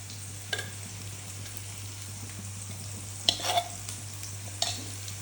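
Ingredients sizzle steadily in a small frying pan while a spoon stirs them, with a few sharper scrapes and taps against the pan, close by and with no talking.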